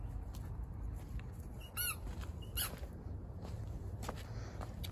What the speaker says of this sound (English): It's also a squeaky ball?